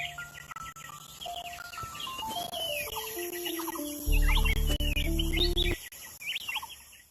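Birds call in the Amazon rainforest: a series of whistled, stepped notes and chirps, joined midway by a loud, low droning call, with lively bird song around it.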